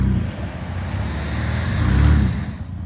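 Ford Explorer engine roaring through a long burnout: a steady, loud low-pitched drone that swells toward the end with tire and road noise, no voices.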